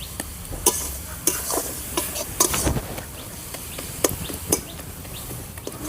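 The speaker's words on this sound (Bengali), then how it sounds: "আমি এর মধ্যে পরিমাণ মতো লবণ আর সামান্য পরিমাণ হলুদ দিয়ে দেবো ভালো করে মিশিয়ে নেবো" A spoon scrapes and stirs greens with small river fish as salt and turmeric are mixed in, irregular close clatters and scrapes over a faint sizzle, with no talking.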